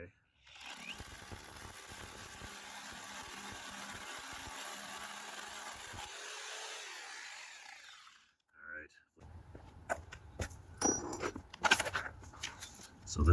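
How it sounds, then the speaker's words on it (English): A hammer drill fitted with a 3/8 inch masonry bit bores into a concrete driveway, a loud, steady grinding rattle for several seconds that cuts off, followed by scattered knocks and handling sounds. "I've got a hammer drill, 3/8 inch masonry bit on there"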